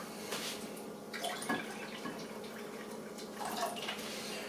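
Water poured into a pitcher of lemonade already holding sugar and lemon juice, a steady close splashing and trickling stream with small drip-like bursts running through the whole stretch.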